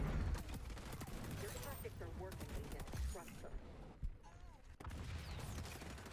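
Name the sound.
MDR rifle firing in a video game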